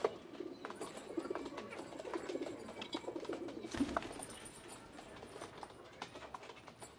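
Pigeons coo softly in a low, murmuring stream, somewhat distant and faint, with a few scattered rustles and one brief flutter partway through.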